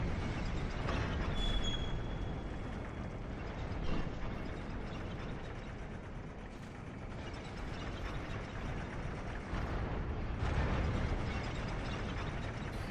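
Fire Snake pyromancy in Dark Souls II: Scholar of the First Sin, a dense, continuous stream of crackling, grinding bursts and pops that surges and recedes over several seconds, fairly loud and busy with no talk.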